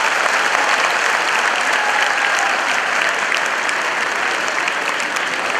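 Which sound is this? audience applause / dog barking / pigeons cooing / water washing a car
audience applause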